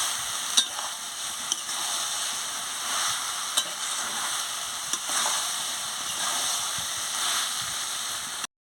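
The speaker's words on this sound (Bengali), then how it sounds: "এবার আমার কষানো হয়ে গেছে" Papaya, pointed gourd and soybean curry sautéing in a pan, a steady loud sizzle and frying hiss with occasional light clinks of a stirring spoon.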